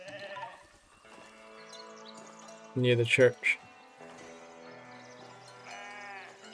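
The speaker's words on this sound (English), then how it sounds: "And we have some sheep running about there." Sheep bleat in the farming game Foundation: a short, loud burst of a few bleats midway, over soft game music, with someone talking briefly at the start.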